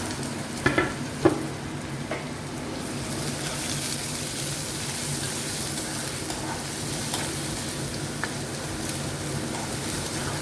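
Onion frying with ginger and garlic in hot oil, a constant close sizzle with a couple of light stirring taps near the start.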